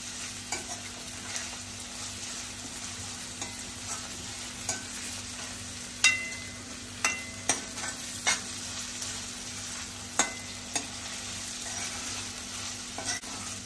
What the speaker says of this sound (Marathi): आता आपण आलं लसूण ठेचून घेतले खलबत्त्यामध्ये, ते घालायचं आहे। ते पण अगदी अर्धा मिनिट परतून घ्यायचं आहे आलं लसूण।